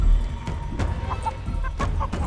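Clucks from a giant chicken in the video game Chicken Feet come in several short, moderately close bursts over a low game ambience.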